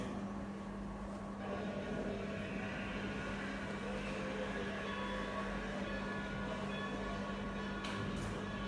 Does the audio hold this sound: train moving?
yes